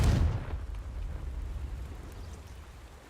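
A Hogwarts Legacy Confringo fire spell explodes in a single heavy boom at the start, then decays into a long, rumbling, crackling tail with no voices.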